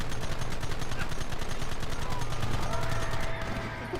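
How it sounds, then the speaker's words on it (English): Rapid, evenly spaced gunfire in Red Dead Redemption rattles fast and loud in a continuous string, easing off slightly near the end, with a voice talking under the shots. "Look at the bullets fly!"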